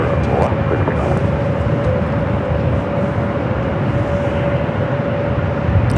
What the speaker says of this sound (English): that was the flight that came in from Tokyo Haneda heading into Terminal 3